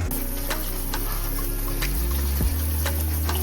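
Pork ribs rinsed under a running kitchen tap, a steady rush of water with a few clicks and clunks, close and without speech.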